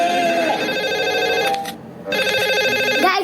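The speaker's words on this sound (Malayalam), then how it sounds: "ഗ്രാൻഡ് പേക്ക് കോൾ വന്നു" A telephone rings inside the Granny horror video game, a steady electronic ring with bright harmonic tones that briefly drops out in the middle before resuming, heard alone and fairly loud.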